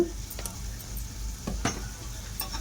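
Prawns frying gently in a pan for biryani with yogurt and chili powder, a soft steady sizzle with a few light utensil clicks, close and alone.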